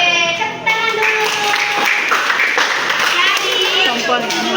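A group of people in a school teacher-coaching session clap their hands together, a brisk run of close claps with voices talking over it.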